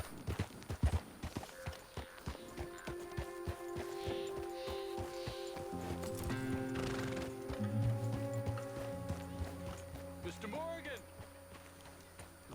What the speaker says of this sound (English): I'm coming, just let me hitch my horse up.